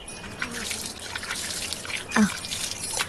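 Water drips and trickles faintly while hands are washed, with scattered small splashes and a brighter drip near the end, against a soft background.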